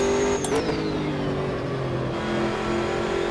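A race car engine in the video game Automobilista 2 revs hard and climbs through its range, boost kicking in near the top, a loud sustained mechanical roar with a brief shift partway through.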